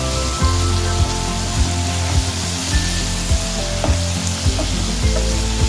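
Vegetable noodles stir-fried with Maggi masala sizzle steadily in a hot pan, with repeated scraping strokes of a spatula at a regular rhythm, close and fairly loud, with no talking.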